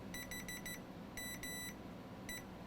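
A multimeter in continuity mode beeps while probing a Mercedes-Benz CLK 320 key fob circuit board: a quick run of four short, loud electronic beeps, then a longer sustained tone, and finally one more short beep.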